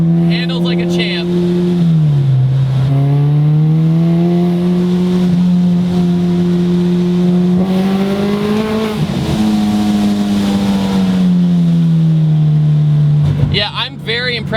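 Supercharged Honda Civic Si FA5 engine heard from inside the car, holding a loud steady drone that dips and climbs through revs, with occasional gear changes and a sharp rev near the end.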